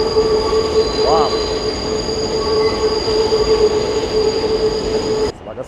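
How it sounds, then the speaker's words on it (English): Elevated NYC subway train running above the street between skyscrapers, loud and close, with sustained high wheel squeal and rumbling rail noise throughout, cutting off abruptly near the end. "the train with the buildings in the background and how it goes above, right next to the skyscrapers"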